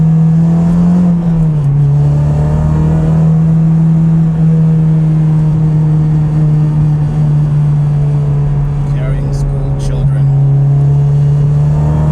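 400 hp Honda Civic driving on a winter road in Connecticut, its engine a loud, steady droning hum heard from inside the car that holds almost constant pitch for the whole stretch.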